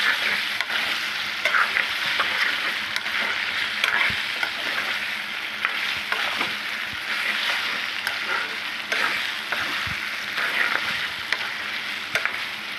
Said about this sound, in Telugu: ఇప్పుడు 1/2 స్పూన్ అల్లం వెల్లుల్లి పేస్ట్ వేసుకోవాలి. వేసుకొని బాగా ఫ్రై చేసుకోవాలండి,